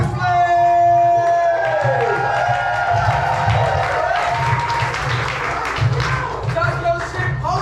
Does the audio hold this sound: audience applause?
yes